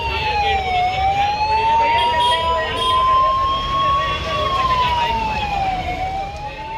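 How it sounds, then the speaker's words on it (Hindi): Loud wailing ambulance sirens rise and fall steadily in Haridwar, Uttarakhand, with a second siren tone layered above and traffic rumble underneath. "पूरी धर्म नगरी में चारों तरफ एम्बुलेंस के सायरन बजते सुनाई देने लगे"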